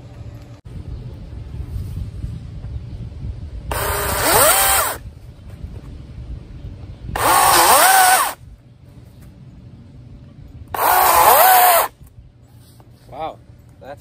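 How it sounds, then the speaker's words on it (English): A gas-powered saw rips through cottonwood in three separate loud bursts of a few seconds each, engine revving hard during each cut and dropping to a low idle between them. "power the gas saw up and just rip through everything"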